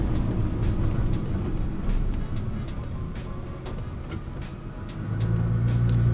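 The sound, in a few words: Nissan GT-R driving in second gear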